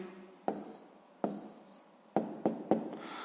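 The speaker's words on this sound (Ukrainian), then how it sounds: "Записуємо відповідь." Pen or pencil writing out a maths answer by hand, a few quiet scratchy strokes with sharp taps as the writing tool touches down, close and alone.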